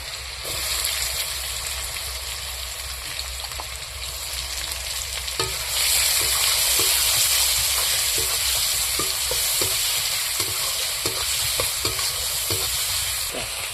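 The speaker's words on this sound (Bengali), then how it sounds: "পেঁয়াজগুলো ভালো করে ভেজে নিয়েছি।" Chopped onion and garlic paste fry in hot oil, a steady close sizzle that swells midway, with repeated light clicks and scrapes of a spatula stirring through the pan and no voices.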